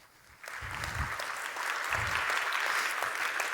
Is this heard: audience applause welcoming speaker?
yes